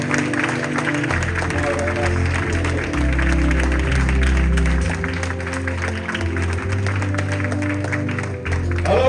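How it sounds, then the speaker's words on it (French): A church congregation claps and cheers for Jesus during a sermon by Pastor Emmanuel Gossé, sustained loud applause from a crowd filling the room, with music or voices mixed underneath. "Alors acclame Jésus pour ta vie."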